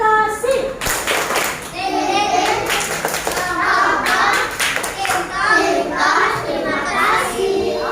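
Young children in a classroom clap together in a rhythmic patterned cheer at the end of a story, with bursts of claps mixed with children's voices chanting along.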